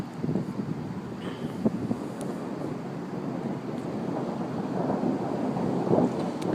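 Thunder rumbling during an intense lightning storm, a continuous low roll with occasional sharper cracks and a swell toward the end, mixed with wind or rain noise.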